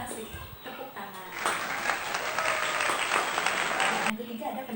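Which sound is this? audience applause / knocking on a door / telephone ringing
audience applause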